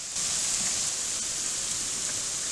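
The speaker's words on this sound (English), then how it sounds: "This is a torrential downpour. It's like almost like a half rain and half hail" A torrential downpour mixed with hail roars in a dense, unbroken hiss, loud and close, with no pauses from start to finish.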